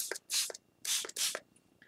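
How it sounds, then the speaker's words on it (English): Three short hissing bursts from a spray can, close and fairly loud, separated by brief pauses. "Just spray it and dry it."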